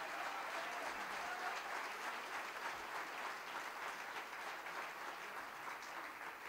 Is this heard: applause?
yes